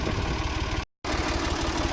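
A farm tractor's engine idles with a steady, rumbling low drone that stays close and even, broken by one short dropout to silence before the idle resumes.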